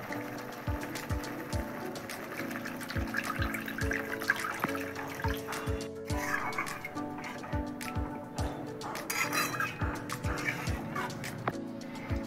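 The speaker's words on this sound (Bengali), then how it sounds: "সব মশলা দিয়ে কষানো হয়ে গেছে, দিয়ে দিচ্ছি জল, আর একটু জল দেব।" Water is poured into a pan of Bhetki fish curry masala after the spices are fried, a close, continuous splashing and bubbling with clinks of a utensil against the pan throughout.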